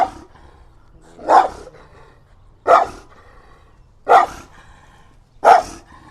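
A big dog barks four times, single loud close barks spaced about a second and a half apart with quiet between them.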